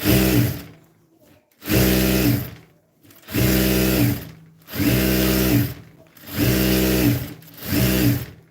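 A sewing machine stitches pajamas in six rhythmic bursts of whirring, each about a second long, separated by short silent pauses, loud and close with no talking.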